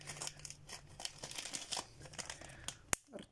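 A small plastic packet holding a bracelet order is handled up close, giving irregular crinkles and rustles with a sharp click near the end.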